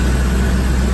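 A 1983 Pontiac Trans Am's factory 305 V8 with Crossfire Injection idling close by, a steady deep rumble with an even low throb and no other sounds.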